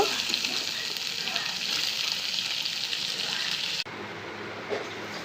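Chopped onions and ground dried fish sizzle steadily in hot oil in a wok for a Bengali shutki fritter chutney, a dense, even frying hiss that drops abruptly softer near the end.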